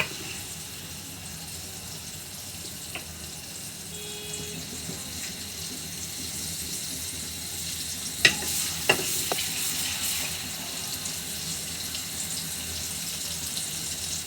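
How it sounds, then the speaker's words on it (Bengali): Steady sizzle of onions frying in oil until browned, with a few sharp clinks of a utensil stirring the pan partway through. "তেলটা পেঁয়াজের সঙ্গে ভালো করে ভাজি করে নিব"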